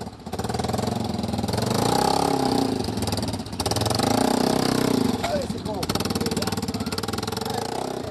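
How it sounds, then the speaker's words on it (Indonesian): A motorcycle engine runs steadily on a muddy rural road, its mid-pitched drone continuous and fairly loud, with people speaking over it throughout. "jalan yang berlumpur dan terus motor tidak bisa melewati, dari harus didorong untuk bisa lewat"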